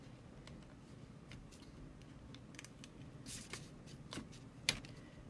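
Sticky tape goes onto a folded paper card, making faint rustles and soft crinkly taps, then one sharp pull or snap near the end in a quiet room with no talking.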